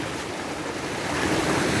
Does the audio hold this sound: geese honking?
no